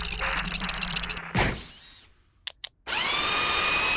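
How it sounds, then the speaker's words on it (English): A mining drill from the game Ratchet & Clank whirs and grinds against tough raritanium rock, then cuts off abruptly with a burst of noise, sputters briefly, and starts up again as a loud steady buzz. "These dang rocks are too tough. I keep breaking my drill."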